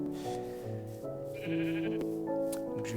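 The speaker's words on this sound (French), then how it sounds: "Donc je vais tuer 3 moutons." Sheep bleating in a Minecraft-style video game, a few short bleats rising over looping game music, fairly close and clear with no talk.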